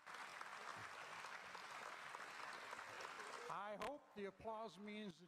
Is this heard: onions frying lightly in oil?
no